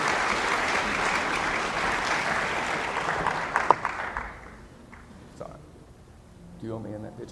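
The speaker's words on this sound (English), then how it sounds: "So give a round of applause for these ladies." Applause for a girls' school sports team, a steady roar of clapping that fades out midway, then talk follows.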